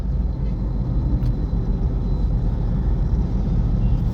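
Road traffic of cars and trucks near Vadodara on a road trip: a loud, constant low rumble of engines and tyres on the road, steady and unbroken.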